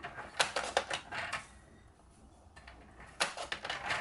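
Scissors snipping strips from colourful scrap paper offcuts for a handmade card, a quick run of crisp close cuts, a pause, then another burst of snips.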